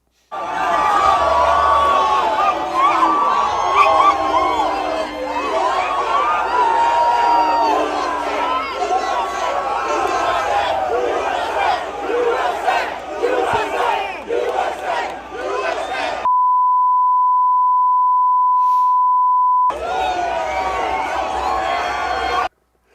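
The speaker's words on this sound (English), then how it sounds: "Some are going to boo. Most would cheer. Most absolutely lost their mind." A packed stadium crowd at a football game roars with loud cheering and shouting, sustained and dense, then cuts off abruptly into a steady test tone before the crowd noise returns.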